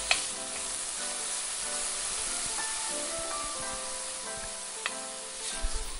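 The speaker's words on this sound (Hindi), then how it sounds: "अब इसमें 2 चम्मच मैदा मैंने डाल दिया है। अच्छा सा भूनेंगे।" Two spoons of flour roast and sizzle in a pan with a vegetable sauce, giving a steady close frying hiss with faint stirring scrapes and a few soft clicks throughout.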